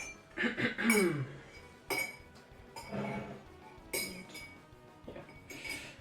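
A spoon clinks repeatedly against a glass of absinthe with sugar, sharp bright taps in irregular bursts at close range, with faint background voice.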